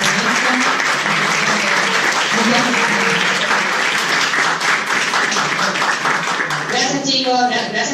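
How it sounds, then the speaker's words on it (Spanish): Audience applauding Marina after an investigative journalism talk, loud sustained clapping throughout with voices mixing in and a person starting to speak near the end. "vamos a brindar un aplauso a Marina por esto"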